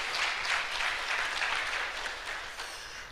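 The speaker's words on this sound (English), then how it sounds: "Let's give them a round of applause for that" Sustained applause from an audience at an AI in Higher Education summit, dense steady clapping that stays loud and even throughout with no voices on top.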